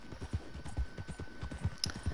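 Horse hooves clip-clopping in Red Dead Redemption 2, a steady, evenly spaced trot of soft thuds heard close and fairly quiet, with no talk over it.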